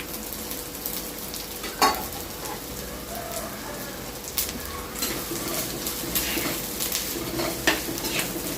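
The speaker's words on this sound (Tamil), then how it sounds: "வெங்காயம் நல்லா ப்ரௌனாக வதங்கணும்." Chopped onions for a spicy crab gravy frying in hot oil in a pan, a steady close sizzle broken by occasional scraping stirs and clinks of a spoon, with no voices.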